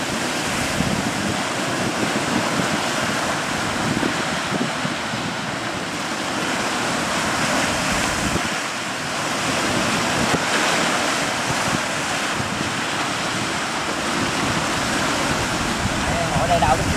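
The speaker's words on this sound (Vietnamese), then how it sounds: "Sóng nó đập qua các bạn." Sea waves crash against fishing boats heading out in strong wind, a loud continuous surge with heavy wind buffeting the microphone and brief dips in the roar.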